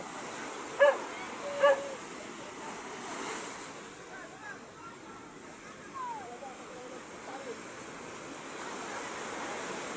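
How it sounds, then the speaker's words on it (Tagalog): Big sea waves roll and crash in a steady wash, with two short sharp cries near the start and faint voices murmuring underneath. "malalaki na naman ang alon dito sa may alon lugar"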